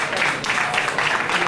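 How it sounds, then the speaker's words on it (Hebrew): A restaurant crowd claps together in a dense, steady burst of applause, close and fairly loud, with voices mixed in throughout. "כל המסעדה מוחא כפיים"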